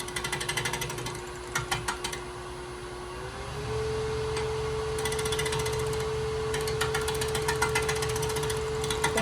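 A spindle gouge cuts a cove into wood spinning on a lathe, a steady motor whine shifting pitch partway through, overlaid by repeated bursts of chattering, rasping cuts as the tool moves back and forth.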